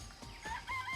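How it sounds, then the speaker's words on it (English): Chickens in a coop in the video game Danganronpa: Trigger Happy Havoc cluck briefly and faintly in a short, quick run of calls. "I remember there were some chickens in the chicken coop."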